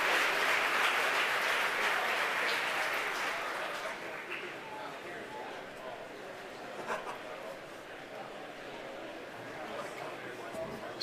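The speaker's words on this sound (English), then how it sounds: "The crowd here at headquarters cheering." Crowd of SpaceX employees at headquarters cheering and applauding during a Starlink launch, loud at first and then settling into scattered clapping and chatter, with voices mixed in.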